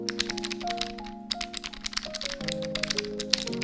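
Rapid, continuous typing on an LP85 mechanical keyboard, crisp clicky keystrokes close up with steady background music underneath.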